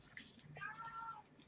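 An aging cat meows in a drawn-out crying call, faint and somewhat distant, in a quiet room with soft background noise.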